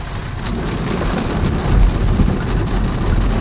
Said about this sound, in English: as you can see, it started raining